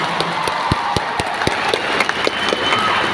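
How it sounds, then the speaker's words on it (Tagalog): Scattered clapping from an audience at a scholarship grant distribution in Laguna, with sharp individual claps over a steady crowd murmur, fairly close and loud throughout. "Pagpalakas ang palakpak"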